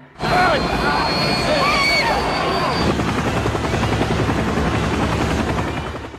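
Loud, close helicopter rotor chop with a steady engine whine, continuous throughout with a rumbling low thump.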